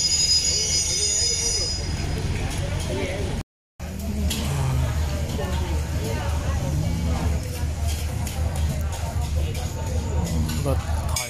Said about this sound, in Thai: รถถอยมาแล้วครับ